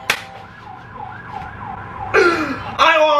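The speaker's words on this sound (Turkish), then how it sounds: "Ambulansın sesi geliyor," Ambulance siren sounding in a wailing up-and-down pattern, moderately close, with sharp louder bursts near the end as it passes.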